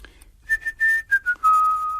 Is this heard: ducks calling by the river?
no